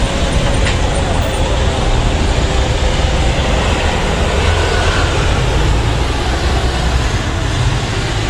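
Road traffic on Second Road in Pattaya, Thailand, a loud, steady roadside roar of passing engines and tyres with no break in the flow.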